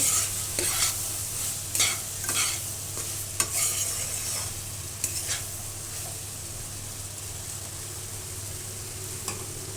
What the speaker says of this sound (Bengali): এখন এগুলো আমি একটু নাড়বো